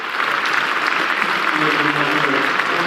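A cricket ground crowd applauds Markram's century, a warm, steady wash of clapping and crowd noise heard from a distance and holding evenly throughout.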